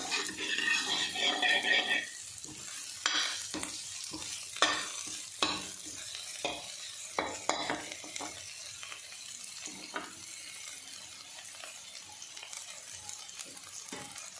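Spices and chilies sizzle in hot oil as a tadka for mixed dal, starting with a bright, loud burst of frying, then irregular spoon knocks and scrapes against the pan over a softer, continuous hiss.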